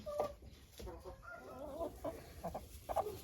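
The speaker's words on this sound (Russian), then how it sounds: "Это петушок сидел с беленькой в гнезде." Chickens clucking softly near a nest where a rooster sits with a white hen, a string of low murmuring clucks and short calls, fairly faint and close.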